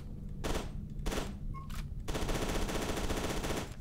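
Automatic gunfire in the horror shooter F.E.A.R.: several loud rapid bursts separated by short gaps, then a long sustained burst that runs to the end, with no talking over it.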